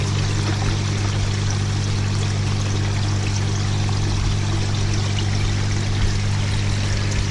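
Water from a shower filter pours steadily into a koi pond, the shower fed from a skimmer on a 10,000 variable flow pump; a continuous, loud rushing splash with no break.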